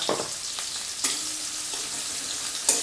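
Onion, garlic and chili fry together in a pan. A soft, steady sizzle carries a few sharp scraping or stirring strokes spaced about half a second to a second apart. The sound is close and moderate in level, with no voices.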